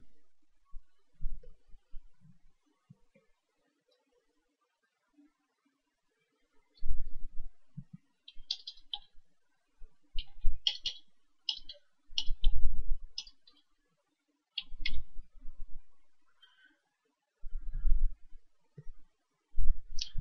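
Bank card details being entered on a device for a mobile top-up, heard as close, crisp clicks and taps in short irregular bursts separated by silent pauses.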